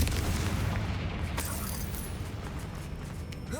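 A Confringo fire spell bursts in Hogwarts Legacy, a deep rumbling blast that fades into a crackling, creaking tail over a few seconds, with no talking.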